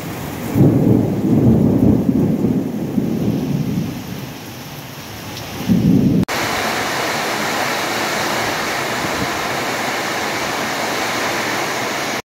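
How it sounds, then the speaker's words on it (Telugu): Thunder rumbles loudly through a heavy thunderstorm in the first six seconds, then dense steady rain hisses alone at constant volume for the rest, with no voices. "ఉరుములు మెరుపులతో వాన వస్తుందండి"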